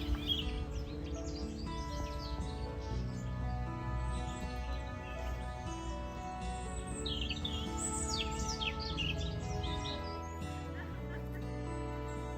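Wild birds sing and chirp in an autumn garden with a summer house, a steady mix of bright tweets and calls over soft background sound.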